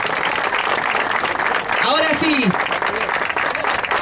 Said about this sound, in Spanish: vamos a abrir paso con un aplauso grande